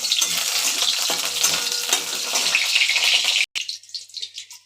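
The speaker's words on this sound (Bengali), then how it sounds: "এই যে বেগুনটা ভাজছি।" Eggplant frying in a pan for a gourd-peel chorchori, a loud steady hiss and sizzle of hot oil that cuts out abruptly near the end, leaving softer broken crackling.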